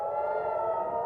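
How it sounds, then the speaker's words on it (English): Air raid sirens wail near the Lebanon-Israel border, a steady sustained tone holding for the whole moment without speech. "As sirens wailed, missiles arced over the Lebanon-Israeli border."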